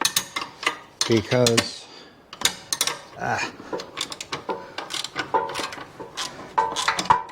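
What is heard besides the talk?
T40 Torx wrench breaking Harley suspension bolts free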